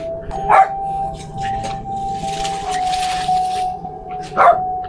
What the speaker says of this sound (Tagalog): meron siyang alaga ditong aso